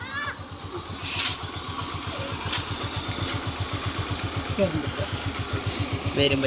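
A scooter engine runs with a steady, throbbing putter close by as riders set off from a home, while people talk over it.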